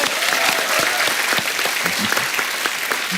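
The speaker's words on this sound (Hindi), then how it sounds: "इस बात पे भी तालियां बनती हैं।" A studio audience at a Hindi TV comedy talk show bursts into loud, sustained applause, with dense clapping from a packed crowd that runs the whole stretch without letting up.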